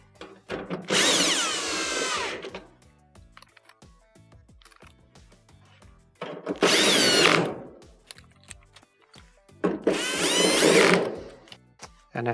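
Cordless drill driving the three screws that hold the back panel onto a Whirlpool dryer: three loud, close whirring bursts of a second or two each, with quiet handling clicks between them and no voices.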